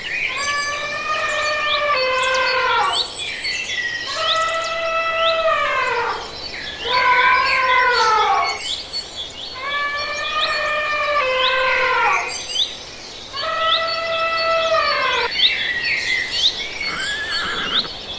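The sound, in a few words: elephant trumpeting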